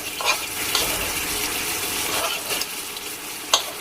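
Momos being stirred into a simmering gravy in a pan, a steady broadband sizzle and bubbling with a few soft scrapes of the spoon, close and continuous with no talk.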